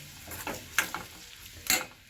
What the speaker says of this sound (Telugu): ఫస్ట్ ఈ ఉల్లిపాయలు బాగా మగ్గించుకుందాం